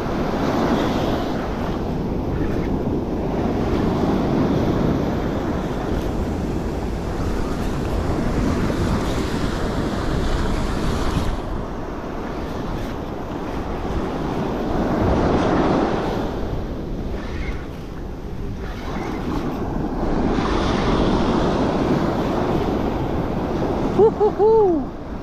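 Breaking ocean surf along a New Jersey beach during the fall striped bass run, a steady roaring wash of waves with gusty wind buffeting the microphone, swelling and easing in broad surges throughout.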